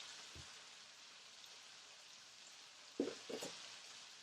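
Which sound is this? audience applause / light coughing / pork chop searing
pork chop searing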